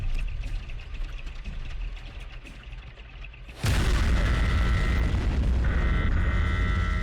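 A bomb detonates in a stealth video game, a sudden loud boom breaking a quieter ambient backdrop and leaving a sustained roaring rumble with crackle afterward.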